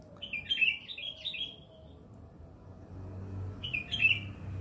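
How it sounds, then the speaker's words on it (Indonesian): Birds calling in a home yard at dawn: two short bursts of bright, quick chirps, one at the start and another near the end, fairly near over a quiet low background hum. "Ini burung-burung ini mulai dari subuh itu selalu bergiliran."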